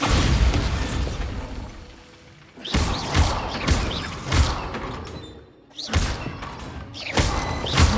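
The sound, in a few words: Bombarda blasting spell in Hogwarts Legacy video game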